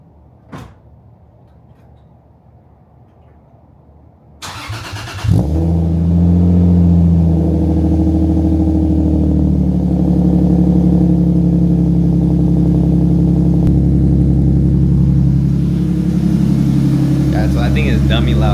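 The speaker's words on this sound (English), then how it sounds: "So this is gonna be like one of a cold start from a couple days." A Lexus IS300 with catless headers cold-starts: a short crank burst, then the engine catches into a loud, steady, rumbling high idle that holds to the end, with no talking over it.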